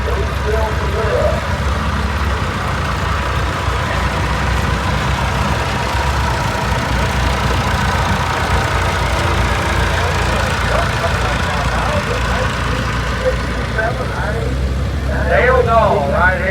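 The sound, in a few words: 1932 Allis T40 tractor engine idling in parade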